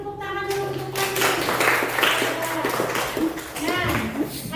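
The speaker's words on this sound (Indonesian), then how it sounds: "Beri tepuk tangan dulu untuk pensil." A classroom of students claps together at a teacher's prompt during a geometry lesson, a burst of hand-clapping mixed with children's voices and a teacher talking over it.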